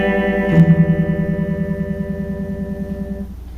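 Electric guitar chord played through a Mooer Ninety Orange phaser pedal, ringing loud and sustained with a steady pulsing, wobbling vibration throughout as it slowly fades.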